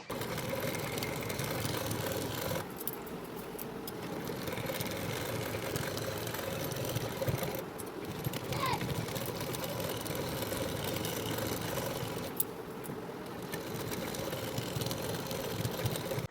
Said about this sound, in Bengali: এখন এই দাগ বরাবর সেলাইটি দিয়ে নেব